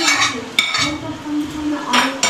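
Fried carrots and pointed gourd go into a cooking pot with a metal spoon, giving sharp clinks and scraping knocks against the pot amid soft stirring rustles, close and fairly loud, with no talk.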